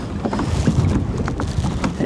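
Strong wind buffets a small fishing boat during trout trolling, a dense rushing roar with gusty swells and occasional creaks, continuous and close with no talk.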